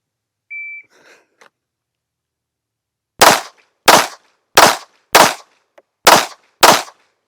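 A short electronic beep, then six loud, crisp pistol shots fired at 10 yards in an evenly spaced string, each crack standing out against near silence.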